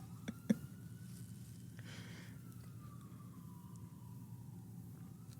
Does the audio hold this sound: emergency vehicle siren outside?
yes